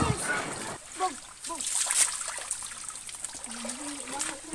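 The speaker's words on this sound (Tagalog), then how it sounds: "yun na po pinapalubog ko na yung mga kalabaw na yan" Water buffalo are submerged in a shallow creek in the countryside Philippines, making soft splashes and trickling water near the listener while someone talks over them.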